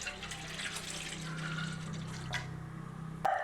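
Half a litre of milk pours steadily into a pot for sweet potato payasam, a continuous liquid stream with a soft splash, ending with a brief clink.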